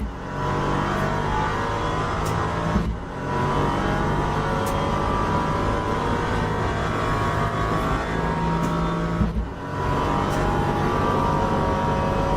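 A GT3 race car engine drones steadily in Assetto Corsa EVO, holding a loud, sustained tone with two brief dips, as if during gear changes, and no talk over it.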